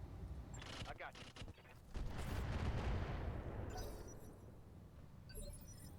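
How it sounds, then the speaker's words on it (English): LRM missiles are fired at a tank in the mech game Battletech, producing a loud rolling barrage of rapid launches and booms that swells for a couple of seconds, then fades into crackling rumble. "Guess we start peppering the tank with LRMs."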